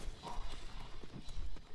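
Horse hooves clip-clop at a walking pace in the samurai video game Ghost of Tsushima, soft uneven thuds repeating through a quiet background.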